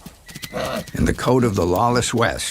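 A powerful wild stallion whinnies loudly in a long rising-and-falling neigh, with hoofbeats clattering beneath, while someone narrates over the top.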